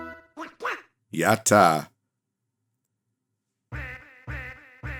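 Donald Duck quacking in the Super Famicom game Donald Duck and the Magical Hat, a run of short, bright, nasal cartoon quacks repeated in quick rhythm after a brief voice exclamation and a pause of silence.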